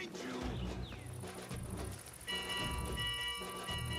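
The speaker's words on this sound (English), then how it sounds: "Oh, there's a bell." A bell rings in Assassin's Creed Mirage, its sustained ringing tones entering partway through over busy in-game ambience and movement sounds.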